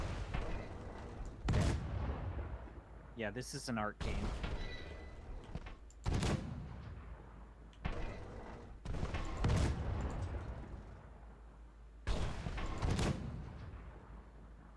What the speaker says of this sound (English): Get that cannon.